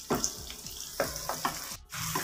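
Tomato and onion masala for an egg onion curry sizzles in a pan over medium heat, with a spoon stirring and scraping in several distinct strokes, close and moderately loud.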